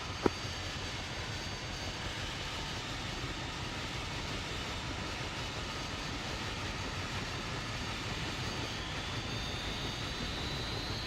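A Mi-8 helicopter flies overhead in a combat flight-simulation game, heard as a steady, loud, broadband engine and rotor roar that holds evenly throughout with no talk.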